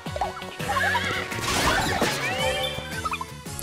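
In the Miitopia video game on Nintendo Switch, a horse gives a loud, wavering whinny over busy game music and effects, with clip-clop-like hoof sounds and no talking.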